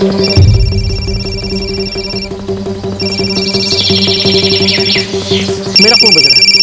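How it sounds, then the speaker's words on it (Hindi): A mobile phone ringtone plays loudly and steadily in repeating electronic melodic phrases, with sustained tones that stop briefly and then start again. "मेरा फोन बज रहा है।"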